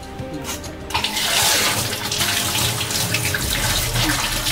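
Water runs steadily from a pipe while murrel fish are washed, a loud close gush that starts after a brief quieter moment and continues with splashing and no talk.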